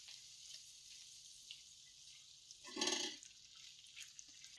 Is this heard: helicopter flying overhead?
no